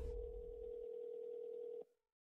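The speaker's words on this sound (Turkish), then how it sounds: "Telefon çalıyor." A telephone rings in The Walking Dead video game, heard as a single steady electronic tone lasting under two seconds before cutting off into silence.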